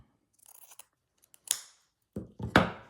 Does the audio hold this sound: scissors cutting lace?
yes